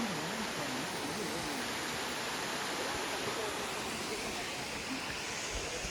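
A wild forest stream in the Agasthyarkoodam forest of Kerala rushes in a steady, dense wash of flowing water that holds even and unbroken throughout.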